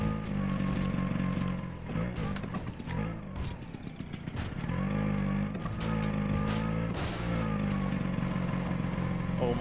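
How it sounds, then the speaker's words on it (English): Motorcycle engine in the video game PUBG, a revving, accelerating drone that rises and falls in pitch as it draws close, with speech heard over it. "Oh my gosh, a bike right behind you."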